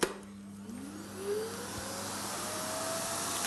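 A Vax Mach 8 bagless cylinder vacuum cleaner motor starts up and settles into a steady, fairly quiet whine that holds at a constant pitch.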